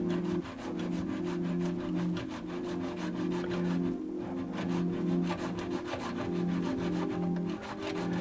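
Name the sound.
saw blade cutting through a garbage disposal nut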